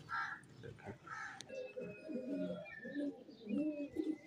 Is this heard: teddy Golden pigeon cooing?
yes